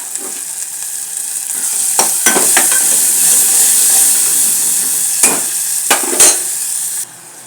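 Turmeric and chopped tomatoes hit a hot oiled pan for a lentil and chickpea curry, giving a steady close sizzle with several sharp scraping stirs and utensil knocks against the pan.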